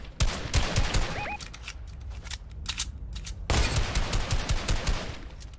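A minigun in the Fortnite video game fires long, rapid, continuous bursts of loud, dense gunfire. There is a brief lull in the middle, then sustained firing resumes at full intensity, with no talking.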